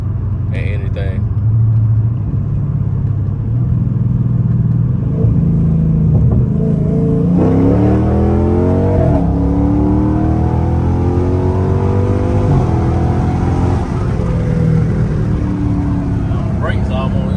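A car's 392 engine with headers roars loudly and climbs in pitch as it accelerates hard, with a brief dip at a gear change before revving up again, pulling in 4th gear.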